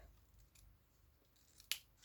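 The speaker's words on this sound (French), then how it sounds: "Je peux couper un morceau déjà. Donc une paire de ciseaux." Scissors snip a piece of paper for a homemade greeting card: faint handling rustle, then one crisp, sharp cut near the end of an otherwise quiet stretch.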